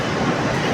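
A train at a railway station, a loud continuous rumbling roar of rolling stock filling the whole moment, close and dense with no voices.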